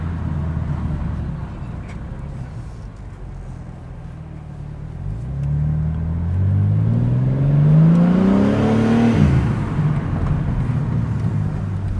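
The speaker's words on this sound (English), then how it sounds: "So I don't know how much blow off sound you can hear from me accelerating" A BMW G80 M3 engine with a carbon fiber intake revs up, its pitch climbing steadily for several seconds before a sharp whoosh of intake blow-off as the throttle lifts, heard from inside with road rumble.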